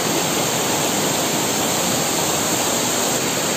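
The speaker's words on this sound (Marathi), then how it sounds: "चांगला एक धबधबा आहे।" Talavade waterfall near Lanja in the Konkan region flows in a steady, dense roar of falling water, continuous and fairly loud throughout with no other sounds.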